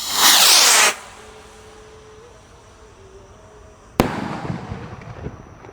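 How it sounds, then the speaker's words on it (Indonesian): A Mercon roman candle firework cake, a 100-shot New Year 2026 celebration piece, lets out a loud roaring burst of launch, then after a quieter lull a sharp near bang followed by crackling fizz and pops. "Sudah menyala bosku. Roket siap meluncur."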